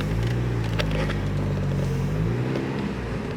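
A car's engine hums steadily from inside the cabin as it drives around a neighborhood block, a continuous low rumble with faint road noise and no talk.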